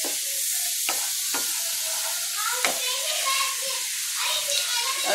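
Chicken fries lightly in a pan, a soft continuous sizzle with a few sharp stirring clicks, while a voice talks over it.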